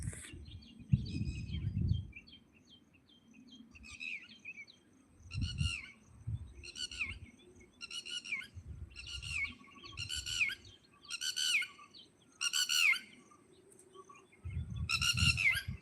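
Songbirds sing outdoors near Bangalore where fish are being caught, with repeated bursts of bright chirps and trills every second or so over a faint low rumble, moderately close and with no voices.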